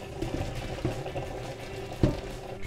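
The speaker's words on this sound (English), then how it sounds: "now we're gonna go ahead and strain and drain" Boiled red potatoes being drained through a strainer in a kitchen, a steady wet watery rush with a few sharper splashes and clunks, moderately loud throughout with no talking.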